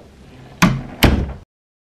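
A door at home swings shut with two sharp close knocks about half a second apart, followed by sudden silence.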